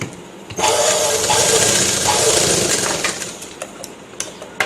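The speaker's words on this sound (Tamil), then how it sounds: "மடித்து இது மேலே தையல் ஓட்டுங்க இந்த இடத்துல தையல் ஓட்டுங்க" A sewing machine runs a steady stitching seam along folded fabric for a dori drawstring cord, loud and close for about three seconds before slowing and stopping, with a few light clicks afterward.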